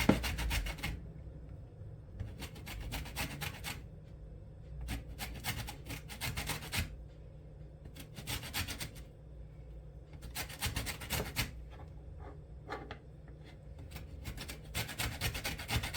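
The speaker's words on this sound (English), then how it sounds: "Zesting the lemon is way easier than zesting the orange was." A lemon zested against a hand grater, with rough scraping strokes in quick bursts and short pauses between them, close and steady with no talking.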